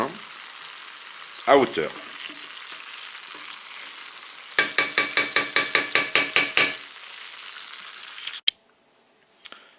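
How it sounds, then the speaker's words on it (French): Red wine poured into a cooking pot for a wood pigeon recipe, with a quick run of rhythmic glugging bursts from the bottle. Kitchen clatter and a speaking voice come before and after. "je vais verser le vin"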